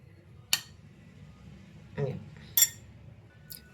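Spoon clinking against a container while adding salt and chili powder for chicken biryani, a few sharp metallic taps spaced apart over low background noise.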